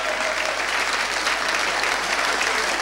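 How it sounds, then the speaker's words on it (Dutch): Steady audience applause fills a Dutch comedy show venue, dense and even throughout with no voices, as the crowd claps after a sketch performance. "uw applaus is voor niemand minder dan Niek Robbers!"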